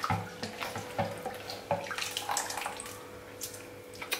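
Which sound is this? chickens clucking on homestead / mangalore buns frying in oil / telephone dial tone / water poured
water poured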